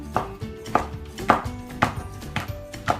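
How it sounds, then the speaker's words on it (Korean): A knife slices a seeded melon on a board in a steady series of crisp chops, close up, with no talking. "씨를 이렇게 빼주세요. 씨가 들어가면 또 거꾸로 수도 있고 하니까 이렇게 빼서 이렇게 썰어주세요"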